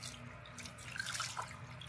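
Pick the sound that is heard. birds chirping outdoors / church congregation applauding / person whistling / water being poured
water being poured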